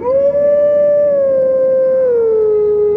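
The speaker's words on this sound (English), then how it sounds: "Twilight Princess has the howl." Wolf Link howls in the Zelda game Twilight Princess: one loud, sustained, tuneful howl that holds its pitch and then slides gently downward, heard alone.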